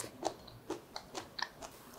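Crunchy chewing of a Korean side dish dressed with plenty of perilla oil, eaten without rice, about six crisp bites spaced evenly and heard up close with no talking.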